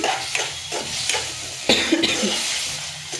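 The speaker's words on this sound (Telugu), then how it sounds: "ఒకసారి రెడ్ సాస్లో మొత్తం వెజిటబుల్స్ అన్నిటినీ కలుపుకుంటున్నాను" Vegetables being stirred into a red pasta sauce in a pan, with repeated scraping and clattering of the spoon over a soft, steady sizzle, close by and fairly loud.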